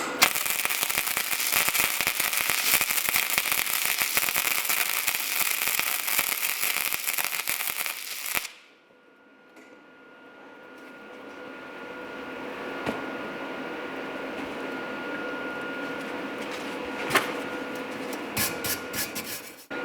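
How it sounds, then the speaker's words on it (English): A Titanium MIG 140 welder gives a loud, dense crackling buzz that cuts off abruptly partway through, followed by quieter hum and scattered clicks and taps. "So let's keep welding."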